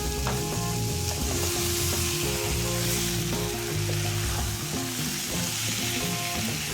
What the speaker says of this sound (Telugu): చేప కాస్త ఆయిల్లో వేగాలండి